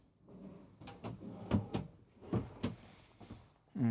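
Drawers in the lower section of a Newmar New Aire 3543 35-foot motorhome opening and closing, a series of short wooden knocks and slides spaced across a few seconds, close up with no talking.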